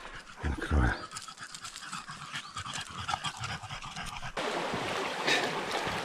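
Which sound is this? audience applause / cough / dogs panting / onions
dogs panting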